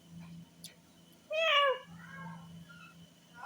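A cat meows once, a clear rising-and-falling call close by, with a faint low hum in the background and no talking.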